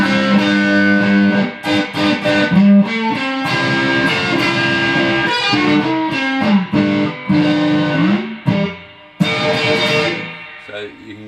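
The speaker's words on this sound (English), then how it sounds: "overdrive the power tubes to get that really sweet sort of, you know, clean distortion, that beautiful overdrive sound" An old valve amp, played through its low input with the power tubes overdriven, gives a guitar continuous riff with sustained, gritty chords and bends, loud and up front, with no speaking.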